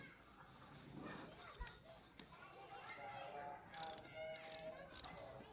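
A ratchet tightens the bolts on a Honda Blade 110 motorcycle engine, giving quiet intermittent clicking runs close by, mixed with faint background voices and children.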